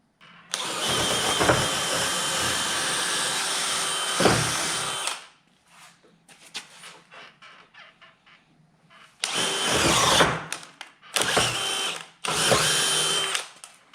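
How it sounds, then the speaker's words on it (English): Power drill whirring in loud bursts, a long run followed by short stops and restarts, with quieter handling noises in the gaps. "as soon as I get done drilling these holes"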